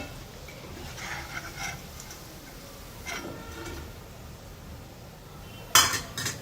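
Crisp fried chicken fingers lifted out of hot oil onto a plate, with faint clinks and taps of utensils against the plate over quiet background and a sharper metallic clatter near the end.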